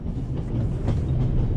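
A moving train rumbles steadily in The Raven Remastered, a continuous low droning roll of the carriage with faint rhythmic clatter and no voices.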